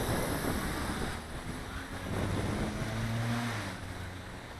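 Strong gusting wind buffets the microphone outdoors while a LaTrax Alias quadcopter flies, a continuous broad roar and rumble that swells and eases with gusts of around 30 to 40 mph.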